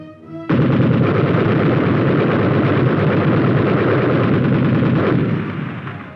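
High-velocity 90mm tank guns firing in a 1950s army training film produce a loud, dense roar of heavy blasts. The blasts merge into a continuous rumbling barrage that starts abruptly and fades out near the end.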